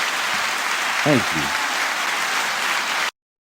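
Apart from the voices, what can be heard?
audience applause for podcast guest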